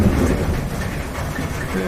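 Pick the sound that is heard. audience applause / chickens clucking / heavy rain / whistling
heavy rain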